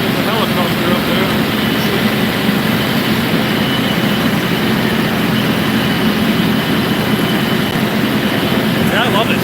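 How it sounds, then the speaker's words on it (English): A tractor-pulled brush hog mower runs steadily and loudly up close, a continuous low engine drone with broadband cutting noise throughout, and no break in the sound. "Yeah, I love this thing. This brush hog is nice."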